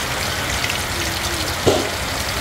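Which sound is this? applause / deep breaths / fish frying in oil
fish frying in oil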